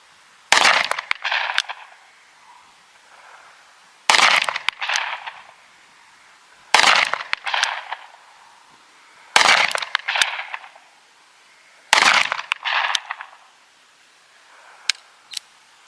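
Taurus 605 Poly revolver firing .357 Magnum rounds, five loud sharp single shots spaced a few seconds apart, each followed by a short ringing echo, with a faint click near the end.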